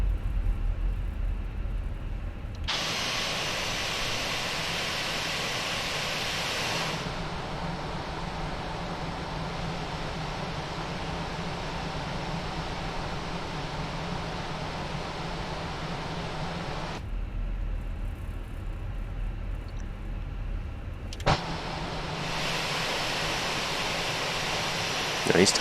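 Airbus A320 in a flight simulator rolling out on the runway after touchdown with heavy braking, a loud steady broadband roar of wind and engine noise that swells and drops in sections.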